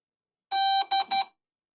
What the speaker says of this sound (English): as you heard, it beeped